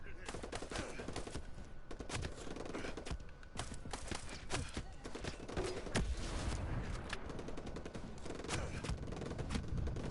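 Continuous dense gunfire in a video game, a steady fusillade of rapid shots with occasional heavier thumps, at moderate level, with voices talking now and then over it.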